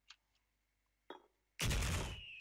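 Gunfire in the Special Force online shooter game: two faint clicks and a short burst, then a loud, sudden blast of shooting that rings out close and dominant to the end.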